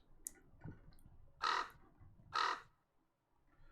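Two loud, close crow-like caws in the game Fate/Grand Order, each a harsh burst of about half a second with a pause between them, over a quiet ambient bed with a faint earlier chirp.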